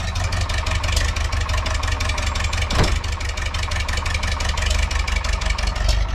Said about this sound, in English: So once that tractor warms up,